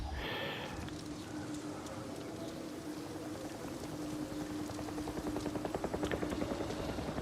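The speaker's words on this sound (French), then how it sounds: "J'entends l'hélicoptère." A helicopter in the video game Avatar: Frontiers of Pandora approaches as a faint, distant rotor whir, and its rhythmic chopping grows clearer and louder toward the end.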